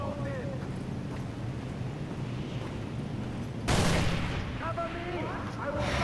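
Gunfire in the video game Far Cry 4, a sudden loud burst of shots standing out from a continuous noisy game soundscape, with a voice speaking briefly.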